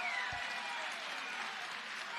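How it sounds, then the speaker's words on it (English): Crowd at a boxing promotion event claps for both fighters after a bout, a steady wash of applause heard from a distance throughout. "They deserve your applause."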